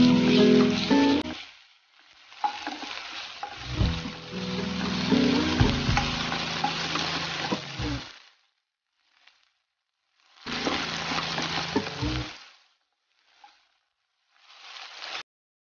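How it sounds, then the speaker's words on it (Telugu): Curry leaves and onions fry in a pan for tomato rice, a close sizzling hiss that comes in bursts separated by near-silent gaps, with some stirring noise and no talking. "కరివేపాకు ఫ్రై అవుతుంది, ఆనియన్ అవన్నీ"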